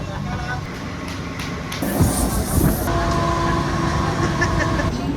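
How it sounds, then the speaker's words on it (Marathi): A Mumbai Harbour line local train bound for Panvel rumbles steadily nearby with rattling carriages and a brief hiss partway through, while people talk over the noise. "हार्बर लाईनवरून पनवेलला जाणारी हिवी लोकल आहे."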